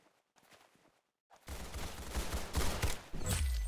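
Gunfire in a video game shooter breaks out after a quiet start, a loud, rapid barrage of overlapping shots that keeps going to the end.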